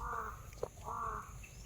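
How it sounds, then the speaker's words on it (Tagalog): A crow caws outdoors, two drawn-out harsh calls with a brief gap between them, moderately distant and clear over a quiet background hum, with no voices. "Yung uwak na to nandito lang yun."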